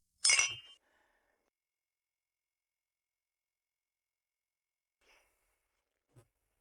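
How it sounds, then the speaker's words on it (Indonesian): A single bright clink of wine glasses touching in a toast, crisp and close, followed by long silence and two faint small taps later. "Selena, Aku bersulang untukmu"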